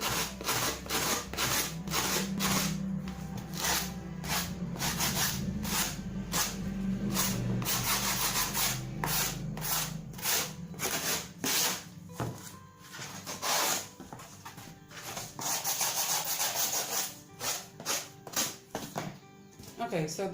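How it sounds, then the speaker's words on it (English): Cardboard being sanded into shape by hand, rapid repeated scraping strokes close up, steady at first, then in bursts with brief pauses, and no talking heard. "I can sand it to the right shape. I can even modify the shape with the sanding."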